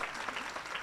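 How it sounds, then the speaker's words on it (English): Audience clapping at a talent search award ceremony, a brief burst of dense, steady applause from a crowd. "I think we must clap in such a way that at least his parents and teachers in his school must listen"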